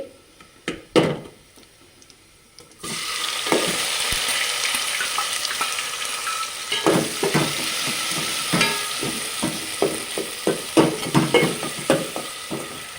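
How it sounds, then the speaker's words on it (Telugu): Tomato pieces hit browned onions in a hot pan for a loud, steady sizzle, with scattered scraping stir strokes throughout; a few sharp clatters come first, then the frying starts abruptly and continues close and alone. "ఎర్రగడ్డలు వేగినాయండి. ఇప్పుడు టమాటా ముక్కలు వేసి"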